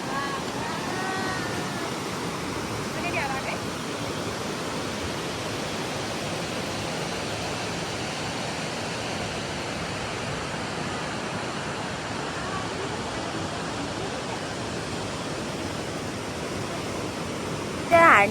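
A river at Harness Resort rushes in a steady, unbroken broadband wash of flowing water, loud and continuous with no other sounds standing out.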